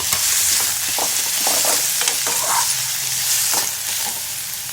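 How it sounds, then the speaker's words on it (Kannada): Grated amla (Indian gooseberry) sizzles and crackles in a hot pan, loud and close, with scraping stirs breaking through the steady frying hiss and no voices. "ಈಗ ಬೆಟ್ನಳ್ಳಿಕಾಯಿ ತುರಿದಿರೋದನ್ನ ಹಾಕ್ಕೊತಾ ಇದ್ದೀನಿ. ಅದು ಸ್ವಲ್ಪ ಹಸಿ ವಾಸನೆ ಹೋಗೋ ತನಕ ಸ್ವಲ್ಪ ಹುರ್ಕೋಬೇಕು"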